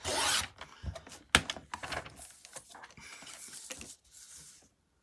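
Scissors trimming the edges of tie-dyed linen paper, a run of close rasping, rubbing snips and cuts that fade out toward the end, with no talk.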